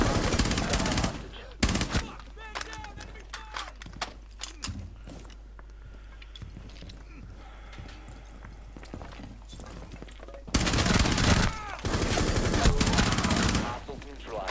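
Bursts of rapid gunfire in Rainbow Six Siege Terrorist Hunt, loud volleys at the start and again near the end with quieter shots and footsteps between, game voice callouts mixed in.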